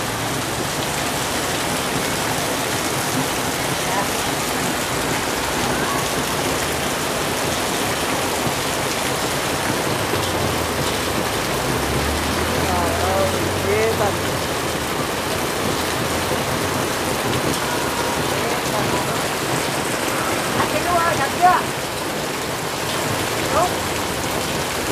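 Steady rain patters and hisses continuously on surfaces nearby, an even wash of noise with faint voices murmuring underneath.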